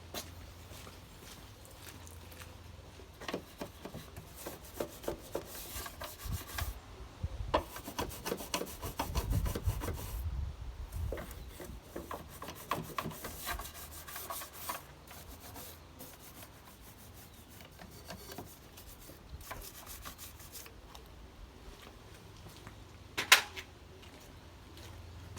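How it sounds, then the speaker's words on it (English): A brush scrubs around the sides of a car engine bay during a valet, a quiet close rubbing and scraping in irregular bursts with a sharper knock near the end, no talk. "Use this brush as well, just to get up the sides there."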